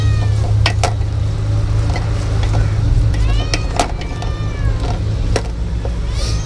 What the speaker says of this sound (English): she's just meowing for no reason